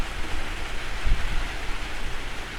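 Rain pours steadily at a mountain viewpoint, a dense even hiss of falling drops with a brief low thump near the middle, no talking.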